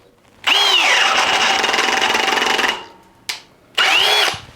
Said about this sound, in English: We're going to be putting the same auger bit throughout all the tests here with this drill.